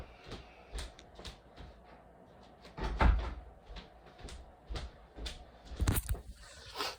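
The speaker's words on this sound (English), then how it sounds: "Let me adjust the door." A door being adjusted indoors gives a run of close knocks, clunks and light bumps, irregular and fairly loud, with a couple of heavier thuds near the middle and end and no talking.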